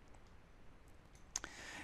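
A single faint, sharp computer mouse right-click sounds near the end of a quiet stretch, with a few softer ticks before it.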